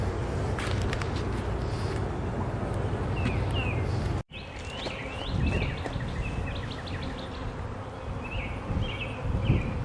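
Honey bees buzz around an opened hive in a steady droning hum, with outdoor birdsong chirping over it and a brief dropout partway through.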